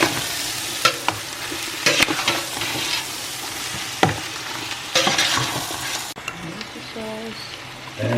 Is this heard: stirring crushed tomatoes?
yes